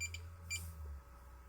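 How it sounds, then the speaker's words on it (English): Electronic test device beeping, two short faint high-pitched beeps close together over a low electrical hum. "That's beeping now."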